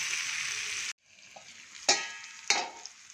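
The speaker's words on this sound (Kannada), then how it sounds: "ಇದು ಸ್ವಲ್ಪ ಫ್ರೈ ಆಗಲಿ." Eggplant frying in a pan sizzles loudly and close, then the hiss cuts out and returns softer, punctuated by two sharp clinks of a spatula against the pan.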